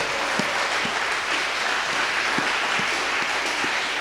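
A church congregation at a French-language Sunday service breaks into steady, dense applause, with many hands clapping together in a full, sustained wash of sound that fills the hall.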